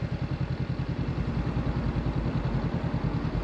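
A motorcycle engine braking down a steep, wet hill road on Hardknott Pass, a loud, close, rapidly pulsing low engine throb heard alone.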